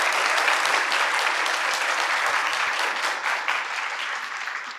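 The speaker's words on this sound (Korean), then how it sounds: "여러분 큰 박수 보내주시면 좋겠습니다." An audience at a democracy talk concert claps warmly and evenly for several seconds, a thick, continuous wash of hands that tapers slightly at the end.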